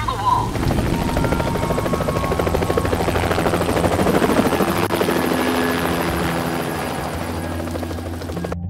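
A helicopter in the video game Splinter Cell: Double Agent thunders steadily with a constant rotor chop and engine drone, loud and close throughout, fading slightly toward the end.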